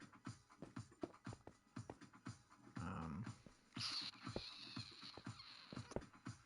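Dogs in a video game, with repeated short yips, whimpers and low growls sounding in quick bursts alongside soft clicks and a brief rush of noise, fairly close and without speech.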